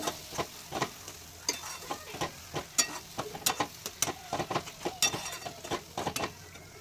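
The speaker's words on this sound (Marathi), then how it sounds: "हे संपूर्ण मिश्रण पाच दहा मिनटं गॅसवर परतून घ्या" A green chilli thecha mixture sautés in oil over a gas flame, soft sizzling under frequent quick scraping stirs with a spatula, close and steady.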